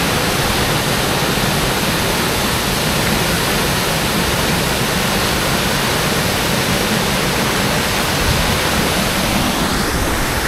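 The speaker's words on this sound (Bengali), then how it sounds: "এই যে ঝর্ণাটা দেখেন কত সুন্দর" Phe Phe Waterfall in Meghalaya, heard from close up, roars as a dense, steady wash of rushing water, loud and unbroken throughout, with no voices.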